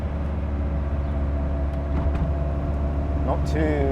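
A Caterham CSR sports car cruising at steady speed, heard from inside as a constant loud engine and road rumble with a faint whine rising near the end.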